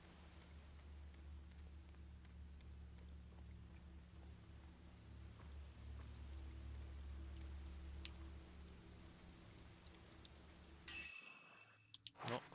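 Soft steady rain in the video game Project Zero, a faint continuous patter over a low ambient hum, with a few scattered drips and a brief clatter at the end.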